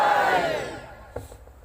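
Large gathering at a Sunni religious speech responding with a loud collective chant of slogans, a dense roaring swell of voices that fades out over a second or so, followed by a brief isolated shout.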